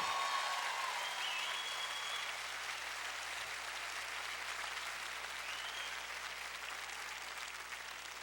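The audience at a concert applauds the band with a dense, continuous wash of clapping. It stays moderately faint and even throughout, and a few whistles cut through near the start.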